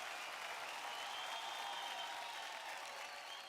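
Steady, sustained applause from a studio audience at a televised dance competition, dense clapping throughout with no break and no voices over it.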